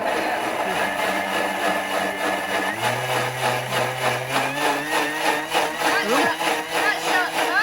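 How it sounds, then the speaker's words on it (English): A countertop blender running at speed 10, blending cucumber gin granita, with a loud whirring motor whose pitch drops partway through as the load changes, under occasional voices. "I'm going to blend. 30 seconds. Speed 10."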